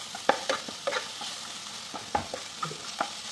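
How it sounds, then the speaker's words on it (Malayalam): Chicken roasting in a pan for jeera chicken is turned with a spoon, giving a few soft scrapes and taps over a low, quiet sizzle. "ഓക്കെ, നമുക്കതിനെ ചിക്കനെ ഒന്ന് ഇളക്കി കൊടുക്കാം."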